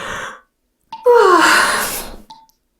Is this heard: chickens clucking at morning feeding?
no